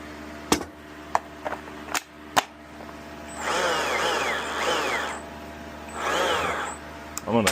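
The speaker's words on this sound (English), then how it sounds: "Alright, I'm going to give it a spin." Stihl MSA battery chainsaw, freshly cleaned, revving up twice in short bursts of whirring chain spin, preceded by a few sharp clicks and knocks from handling; close and fairly loud, with no speech.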